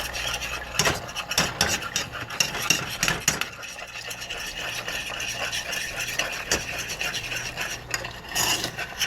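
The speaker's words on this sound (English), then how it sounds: "We're going to take these eggs and just scramble them in there" A spoon scrapes and stirs eggs being scrambled inside a pot with ramen, producing continuous close rasping and clattering strokes with a few sharper knocks against the metal.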